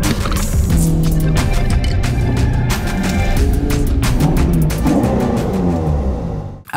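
A 2008 Ferrari 430 Scuderia with its 510 horsepower engine runs loud and continuous, a dense steady roar with shifting tonal layers and a few sharp transients, ending abruptly.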